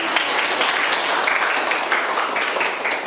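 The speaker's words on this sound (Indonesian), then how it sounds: "Terima kasih Rizka, tepuk tangan." Students clap together in a classroom, a steady, dense patter of many hands lasting a few seconds at an even level, with no talk over it.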